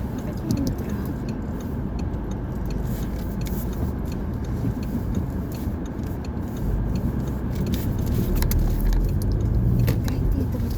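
Road traffic in a jam, heard from inside a car as a continuous low engine and road rumble with faint ticking from the cabin, steady throughout.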